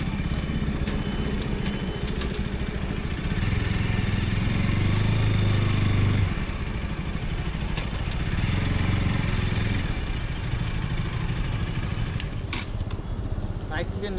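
A motorcycle engine idles steadily at a Jio petrol pump, close and rumbling throughout, while people talk over it and other traffic passes.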